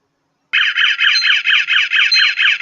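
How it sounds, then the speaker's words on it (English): A high-level liquid waste alarm sounds off abruptly and loudly, pulsing in a steady rapid beeping rhythm that continues without pause to the end. "make sure the alarm will sound off"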